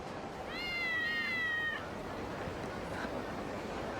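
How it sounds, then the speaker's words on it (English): Cat meowing in the video game The Criminal And The Cute, a single drawn-out tonal meow, clear and close over a steady noisy background. "How you do it is you listen for those meows."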